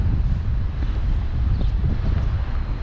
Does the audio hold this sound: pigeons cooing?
no